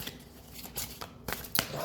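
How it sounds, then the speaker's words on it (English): Oracle cards being shuffled by hand in a quiet room, giving a few soft riffling bursts and crisp slaps, close and fairly faint, with no talking. "when I was just doing pre-shuffle on the oracle cards"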